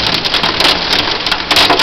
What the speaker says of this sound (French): c'est pas un orage ça. C'est une tornade ce truc là.